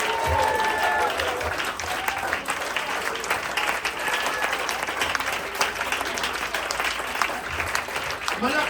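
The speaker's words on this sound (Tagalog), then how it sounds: "Clap your hands to Jesus." A congregation claps along in a worship service, with steady, dense hand clapping filling the space as voices and music carry on underneath, while a storm rages outside.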